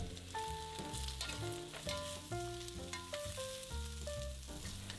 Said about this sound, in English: Continue to stir fry for about a minute, then add the wine.